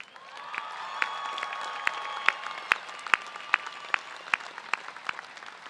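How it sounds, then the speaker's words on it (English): Applause from a large commencement audience for graduates' families and friends at a university ceremony, a steady wash of clapping with scattered sharper claps and faint tonal sounds underneath, moderately distant and sustained throughout. "let's also celebrate your families and friends with a very big round of applause"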